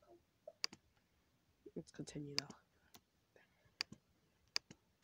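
Sharp, isolated mouse clicks land one by one on lockers in the Riddle School video game, spaced irregularly while a player talks quietly.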